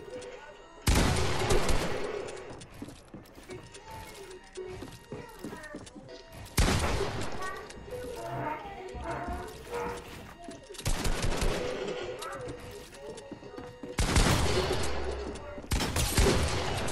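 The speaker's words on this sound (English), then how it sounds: "Why did I try to shoot with my AR?" Assault rifle fire in Fortnite, several loud bursts of rapid automatic gunshots separated by quieter stretches of game sounds and talking, the bursts sharp and close.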